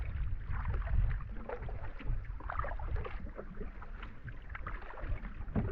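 A canoe paddled across a very large lake on a Temagami trip, heard as low washing and splashing of water against the hull with wind rumble, continuous and fairly close, no voices.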